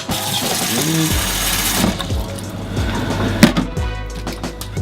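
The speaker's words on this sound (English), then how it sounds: "Let's fill this bowl up with some lukewarm hot water." Lukewarm water running from a tap into a bowl while preparing to clean sneakers, a close, steady rushing flow with some clunks and a sharp knock partway through, no talking.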